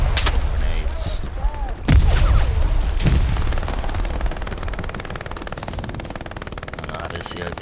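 Grenade blasts and gunfire in the World War II shooter Hell Let Loose, with heavy booms near the two- and three-second marks over a steady, dense background of distant combat.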